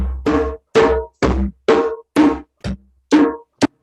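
A hand drum beats out the healing rhythm, a deep bass stroke followed by two tone strokes, repeated as separate close, punchy hits with short gaps between them.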